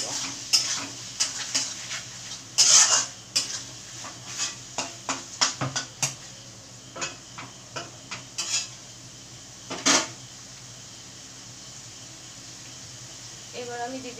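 Ghugni being stir-fried in a pot with goat fat: steady close scraping and clinking of a spoon against the metal, with a soft sizzle underneath and a few louder knocks.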